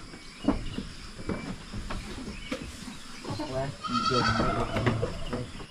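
Several goats, sick with orf, bleat nearby, one long wavering call rising over the others, with scattered shuffling and a voice in the background.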